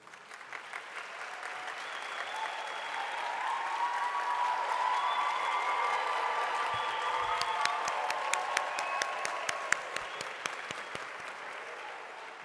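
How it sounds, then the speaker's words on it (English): Sustained applause from a seated audience greeting new members of the Golden Key International Honour Society at an evening recognition ceremony, a steady dense patter building and holding throughout with a few louder individual claps standing out near the end. "Please give all our new members a round of applause"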